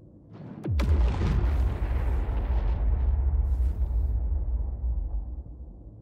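A deep bomb blast in the Star Citizen space game erupts suddenly and loudly, then rolls into a long, heavy rumble that holds steady for several seconds with no voices.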